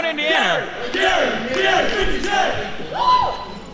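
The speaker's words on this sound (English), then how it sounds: "Listen to the crowd here." A crowd at a live event in Crown Point, Indiana, cheers and shouts in a lively roar, with someone talking over it throughout.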